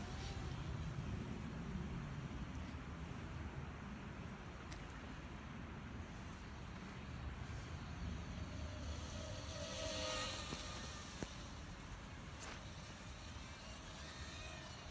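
A small drone flies around outdoors in the SF Bay Area, giving a continuous buzzing whine that swells as it passes closer midway, then eases back. No one speaks.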